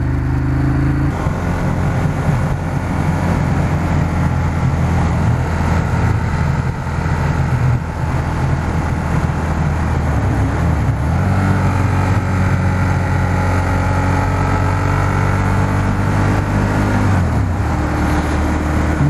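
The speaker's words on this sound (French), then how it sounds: "La moto elle râle, le moteur il grogne" A Ducati Monster 1200 S roars steadily while being ridden at low speed, its engine grumbling and straining with a constant deep drone, shifting pitch occasionally, mixed with wind rush throughout.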